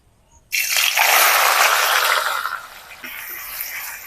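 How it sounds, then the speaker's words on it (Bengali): Finely chopped onions for mutton biryani hit hot oil and ghee with a sudden loud hiss that settles into a steady, strong frying sizzle up close. "এই পেঁয়াজটা কিছু বেরেস্তা করবো"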